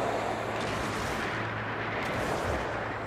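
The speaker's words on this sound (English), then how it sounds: "Looks like a bomb." A game explosion from No Man's Sky on PS4 gives a steady, dense roar of rumbling blast noise that fills the whole moment, with no talk over it.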